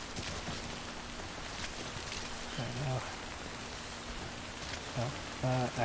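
Steady rain falls in the Death Stranding video game, a constant hiss of drops on surfaces throughout, with a faint hum underneath and brief voiced sounds breaking in twice near the end.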